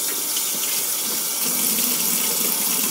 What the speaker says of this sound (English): Not the major rinse, just a minor rinse, and I'm going to rinse all of these brushes out again.